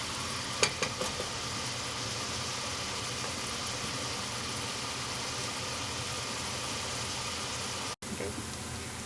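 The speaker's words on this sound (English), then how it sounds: "you see our onions are starting to heat up. Just stir them around a little bit" Onions soften in a pan for a barbecue sauce, giving a soft, even sizzle with a few light stirring taps near the start.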